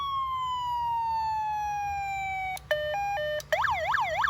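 An electronic siren tone from an aftermarket siren fitted to a Toyota HiLux, in its fire alarm setting: a long falling wail, then a switch to a two-tone alternating pattern and a rapid yelping sweep, loud and steady.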